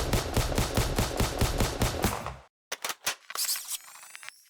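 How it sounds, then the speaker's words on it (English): An assault rifle fires a rapid burst of about ten evenly spaced gunshots in an indie video game, followed by a short pause and then a few sharp, louder single shots that ring out as a metallic tail. "now if I use the dedicated assault rifle sound effect"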